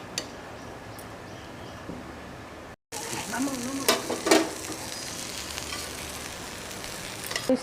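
A chicken sandwich fries in butter on a tawa over medium heat, giving a steady close sizzle with a brief dropout and some scraping and spatula clatter partway through.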